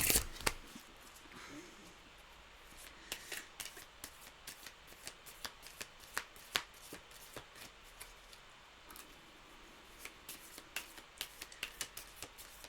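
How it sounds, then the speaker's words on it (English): Tarot and oracle card decks are shuffled by hand close by, giving bursts of riffling and crisp card snaps in an irregular rhythm, with no talking. "My guides are really making me shuffle the decks today, so particularly the oracles."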